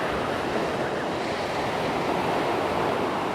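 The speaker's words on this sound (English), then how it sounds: "It's a very nice sandy beach, blue water, good swimming for the kids." Surf washes steadily onto a sandy beach at Long Beach near Russell, New Zealand, on a fine summer day, a continuous close roar of breaking waves with some wind buffeting the microphone.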